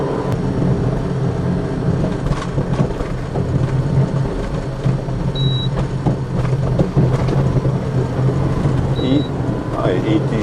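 A homemade kei truck camper, built light with styrofoam sandwich panels, drives along a road with a steady, close engine and road drone throughout. Someone talks over it, and faint short tones sound briefly.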